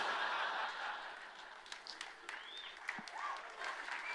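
Scattered audience applause with light laughter at a live seminar, a moderate crowd clapping unevenly at mid distance, fading and thinning toward the end with occasional louder claps.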